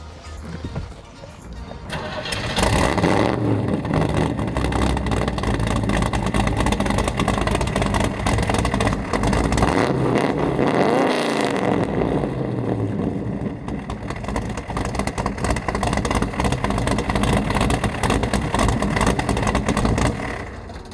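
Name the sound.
1981 Corvette engine running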